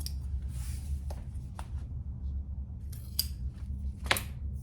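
Scissors trimming excess fabric from the sides of a sling bag pattern, a few close, sharp snips spaced out over quiet room noise.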